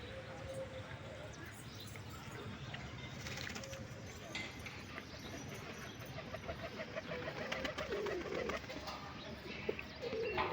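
Pigeons cooing at a loft among a flock in training, soft calls repeating under a constant outdoor wash with voices talking nearby.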